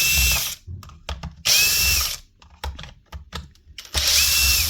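A Dewalt D25810 demolition hammer with a suspected bearing or piston fault runs fast in three loud bursts, separated by rattling, clicking handling noises as it is worked on.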